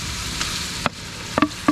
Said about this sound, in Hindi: अब इसमें हम डाल लेते हैं कीमा।